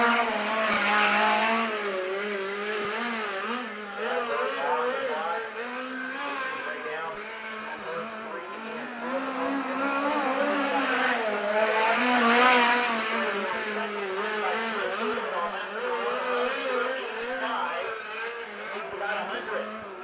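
A USAC midget race car lapping Jefferson County Speedway, its engine droning and surging steadily at high revs, with an announcer talking over it.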